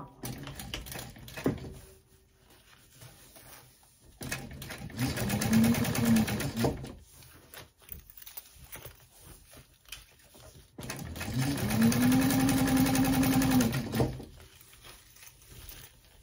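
A sewing machine top stitches a backpack in two sustained whirring runs with brief pauses between, close and fairly loud, with no talking over the stitching.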